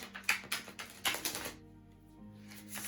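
A Wildwood Tarot card deck is shuffled in a quiet room: a quick run of crisp riffling clicks and flicks for about a second and a half, then near silence with a faint hum.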